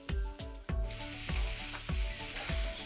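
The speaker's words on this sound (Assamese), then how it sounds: "এতিয়া মই বইল কৰি থোৱা মাংসবিলাক দি দিছোঁ।" Boiled pork dropped into a pan of frying onions and tomatoes, sizzling loudly and steadily while a utensil stirs in repeated rhythmic scrapes.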